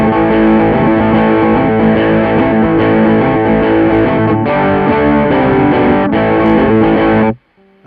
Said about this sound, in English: distortion